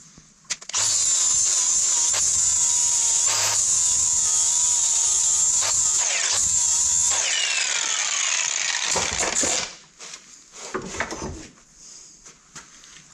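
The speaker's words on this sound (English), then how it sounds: "I'm guessing I'm going to have to tune it up a little bit with the grinder." Power grinder working a part for a Pettibone loader hydraulic steering cylinder, a loud, steady high whine for several seconds with brief dips, then cutting off into quieter shop clatter and short bursts.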